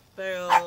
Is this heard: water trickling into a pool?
no